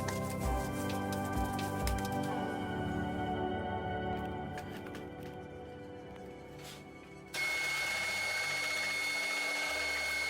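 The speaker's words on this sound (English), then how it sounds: "Can be passed through the machine for the second time to completely mix." A machine mixing Dalyan meatball stuffing runs with a continuous mechanical whir and hum, easing lower partway through before surging back louder near the end.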